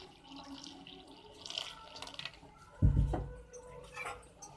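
One and a half glasses of water are poured into a pot for hotel-style tomato soup, a short splashing pour nearby after faint kitchen clatter, with no talk over it.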